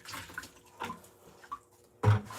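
Water from a tap splashes in short bursts while glaze is rinsed off ceramics, the loudest gush near the end.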